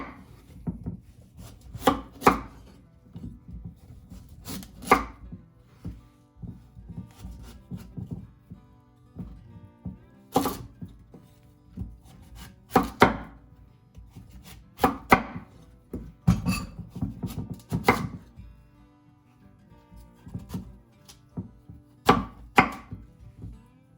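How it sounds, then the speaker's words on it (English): A sharp knife chops a whole pumpkin into pieces on a board, sparse heavy thunks at irregular intervals with quiet gaps between cuts. "I'm going to cut this one into pieces. You just want to make sure that you're level when you're cutting, using a good sharp knife."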